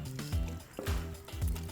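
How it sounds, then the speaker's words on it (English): Peeled Italian tomatoes are squished and stirred in a pot, giving three wet, squelching pulses at a steady pace, each with a soft liquid slosh, close and fairly quiet, with no talking. "just give it a good squish so it breaks it down, and give that a stir"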